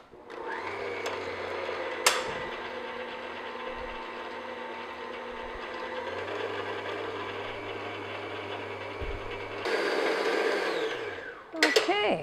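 Electric mixer on medium to medium-high beating icing for gingerbread men, a steady whirring motor hum running continuously with a brief click near the start and a louder, brighter burst of whirring toward the end before it stops.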